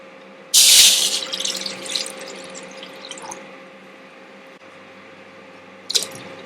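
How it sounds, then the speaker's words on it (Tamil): Water gushes loudly into a pot for a moment to make sugar syrup for jilebi, then trickles and splashes faintly, with a brief second splash near the end over a low hum. "ஒன்றரை கப் தண்ணி ஊற்றிடலாம்."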